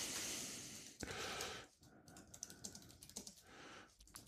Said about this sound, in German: ich versuche so leise wie möglich zu tippen.